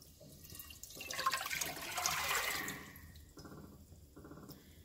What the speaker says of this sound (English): I'm going to add my water.